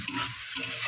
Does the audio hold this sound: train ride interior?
no